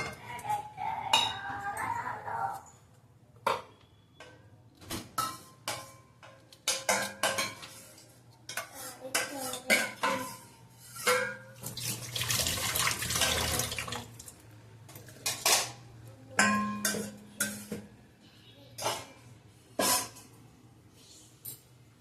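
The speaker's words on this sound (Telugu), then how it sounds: "కొంచెం ఇందులో వాటర్ పోసి ఇలా తిప్పేస్తానండి" Lukewarm water is poured into a vessel and swirled around while making homemade ghee. Close splashing pours come in bursts, broken by metallic clinks and knocks of the container, with no talking.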